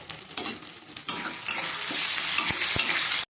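Turmeric, chili powder and salt are stirred in a sizzling frying pan for a green banana curry, with a spoon scraping in uneven strokes over a steady hiss and a couple of sharp clinks near the end.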